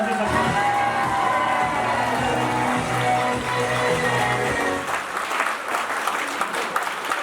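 Audience at a speech gathering in Agra breaks into loud applause and cheering, dense clapping with whoops over the crowd for several seconds, thinning toward the end.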